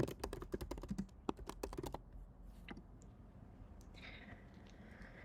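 Rapid keystrokes on a computer keyboard tap out a quick burst of clicks for about two seconds, then a couple of isolated taps follow before quiet room noise, close and fairly faint.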